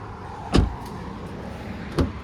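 Power seat in a Hyundai Santa Cruz truck cabin sliding back, with two short mechanical thumps about a second and a half apart over a quiet, steady interior hum.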